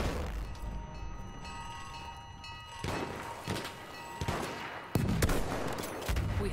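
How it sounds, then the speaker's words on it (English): Artillery barrage and gunfire in the Battlefield 1 video game, with rapid shots and several heavy thumping impacts that build in loudness toward the end, with no talk over it. "The enemies are being assaulted by our artillery barrage."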